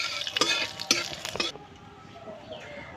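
Dry red chilli, cumin seeds and bay leaves hit hot oil with a loud, crackling sizzle and sharp spits for about a second and a half, then the fry settles to a quieter, steady hiss.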